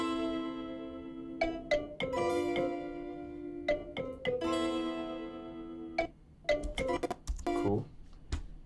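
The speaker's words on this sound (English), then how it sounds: "that counter melody I actually played again with another mallet" Mallet-played counter melody in an Afrobeat instrumental, bright struck tones with ringing harmonics in short rhythmic phrases, notes overlapping and decaying, clean and fairly quiet with no voice over it.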